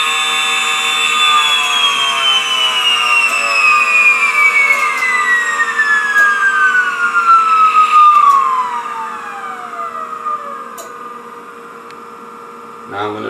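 A small electric motor spins at very high speed, around 50,000 RPM, on a 49-volt supply, giving a loud steady whine that slowly falls in pitch as it winds down, over a constant low electrical hum.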